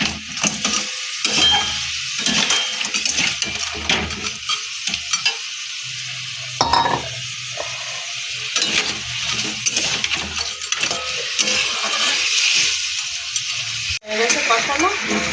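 Crab sautés and gets stirred in a pan, a busy sizzle broken by frequent scraping and clinking strokes of the spoon against the metal. Loud and continuous, no talk.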